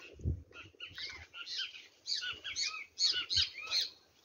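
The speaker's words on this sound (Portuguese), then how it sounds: "E os pássaros lindos que cantam" Several birds chirp and trill in a sunny natural setting along the Ribeira de Iguape river, with bursts of bright, varied calls coming in quick succession at moderate distance.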